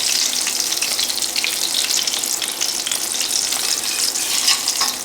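Fish pan-frying in hot grease for fish and chips, a loud dense hissing sizzle with fine crackling spatters, close and continuous without talk.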